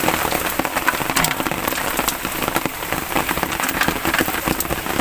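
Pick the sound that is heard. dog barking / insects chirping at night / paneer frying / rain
rain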